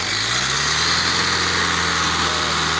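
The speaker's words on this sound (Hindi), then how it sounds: "640 ट्रैक्टर है" A 640 tractor engine runs steadily under heavy load while pulling a plant out by its roots, a continuous loud low drone with a rough mechanical rumble and no voices.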